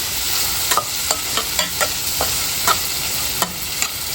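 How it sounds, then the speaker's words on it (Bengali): Fish frying in a pan sizzles steadily with a bright hiss, punctuated by repeated clicks and scrapes of stirring against the pan, close and loud with no voices. "মাখাইয়া ফ্রাই করলিম। মাছ ফ্রাই আর মাছের পাকার বয়াই দিছি"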